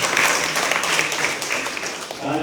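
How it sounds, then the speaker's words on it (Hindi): A crowd at a political booth campaign event in Agartala, Tripura, claps loudly and continuously, a dense close wash of applause that holds steady throughout, with voices faintly mixed in. "इस बूथ के कार्यकर्ताओं के लिए भी जोरदार ताली होनी चाहिए।"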